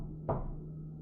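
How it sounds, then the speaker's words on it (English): A single dull knock at a door sounds as an effect in an animated horror story, heard once over a low steady hum, with no voices. "there was a knock at the door."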